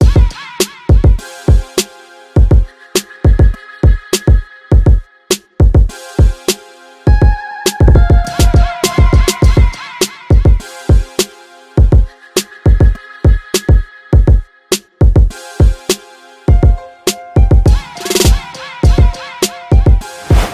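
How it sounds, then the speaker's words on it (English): A punchy drum hit sample repeats in a rhythmic pattern with tonal layers, loud and dry, no voices. "it's just a hit I got in a sound pack"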